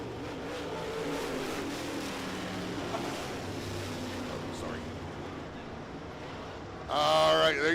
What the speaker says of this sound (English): There you see the field lining up behind the pace truck.